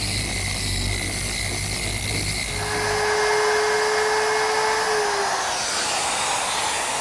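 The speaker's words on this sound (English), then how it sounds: "sanding the intersections of the joints smooth" Power sanding across the joint intersections of a wooden hall mirror frame, working through 120, 150 and 220 grit; a steady, loud whirring drone runs throughout, its pitch shifting partway through.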